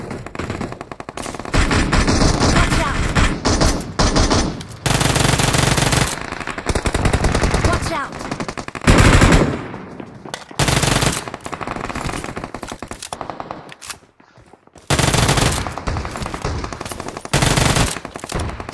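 Loud bursts of automatic gunfire from a shooting video game rattle in long sustained volleys, broken by short pauses and a near-silent gap before firing resumes.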